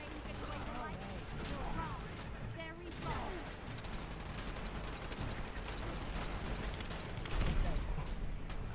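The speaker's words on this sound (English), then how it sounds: "There's a lot of gunfire going on up here." Dense, continuous gunfire from machine gun turrets in the video game Fallout 4, rattling steadily throughout with a louder burst near the end, with a voice talking over it at moments.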